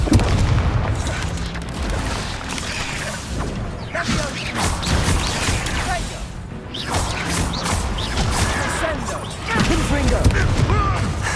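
Confringo blasting spells exploding during combat in the video game Hogwarts Legacy: repeated booming blasts and crashes over dense, continuous battle noise, with a character shouting spell names.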